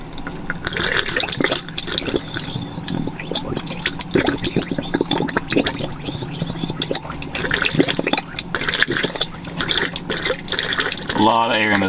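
Pink antifreeze runs through the water lines of a boat with twin 496 HO engines during winterizing, an irregular splashing and dripping liquid sound that sputters with air throughout, and someone speaks briefly near the end.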